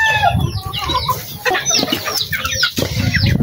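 Free-roaming chickens cluck and squawk close by in a busy, overlapping chorus, with short calls bursting out one after another.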